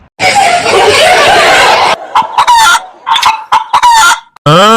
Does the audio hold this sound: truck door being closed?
no